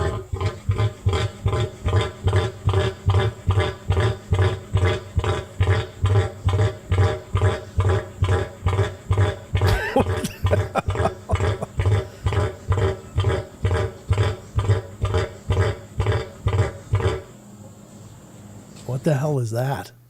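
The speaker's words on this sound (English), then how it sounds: "What the hell is that coming out of that bird?" A strange bird call played back from a phone clip, a rough, sputtering rasp like a bad muffler, repeating in a steady pulsing rhythm for many seconds before breaking into a rising squeal near the end.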